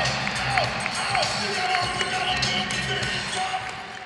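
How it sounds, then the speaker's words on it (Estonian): Arena audience applauding and cheering for Olympic silver medallist wrestler Heiki Nabi at a cage fighting event, a steady wash of clapping and crowd noise with a voice talking over it. "ja publik jagab tunnustust olümpiahõbe Heiki Nabile"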